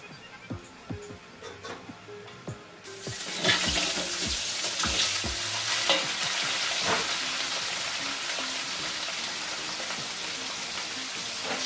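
Lamb meat stir-fried in about two liters of hot oil in a large pot. A few clunks of handling give way to a loud, steady, rain-like sizzling hiss that continues to the end.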